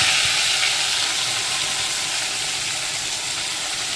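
Cumin seeds and curry leaves sizzle loudly in hot oil in a pan, a dense, close, continuous hiss and crackle that eases slightly over the seconds.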